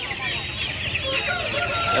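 A desi rooster at the Uluberia poultry market clucks and squawks nearby, joined by a dense din of other fowl over low market rumble.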